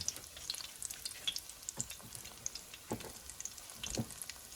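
Floured green tomato slices frying in hot oil, a steady faint crackle and sizzle with scattered pops, close up and without talk.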